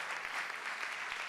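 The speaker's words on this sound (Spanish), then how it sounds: "aplauso para Felisa" A crowd at a political militancy plenary applauds for Felisa. The clapping is steady and fairly distant, heard for a brief moment.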